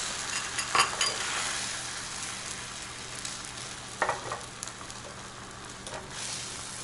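Egg frying in a very hot, greasy pan for Japanese omurice, a steady broadband sizzle throughout with a few sharper crackling bursts, close and fairly loud, no talking.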